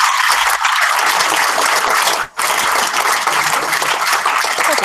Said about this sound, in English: I'm going to give them a big round of applause.